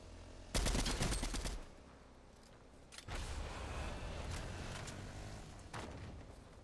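Bursts of MK7 assault rifle fire in Fortnite: a loud sustained volley up front, then scattered shorter shots and rattling bursts over a steady game background.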